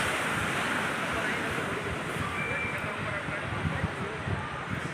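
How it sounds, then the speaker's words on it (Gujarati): Sea surf rolling onto Somnath beach in Gujarat, a steady loud wash of waves mixed with wind buffeting the microphone, continuous throughout with no clear breaks. "સોમનાથના દરિયાનું બેકગ્રાઉન્ડ છે."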